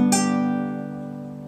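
A guitar chord played across four strings, strummed once with a bright attack and then ringing out fully and gradually decaying, loud and close with nothing else heard.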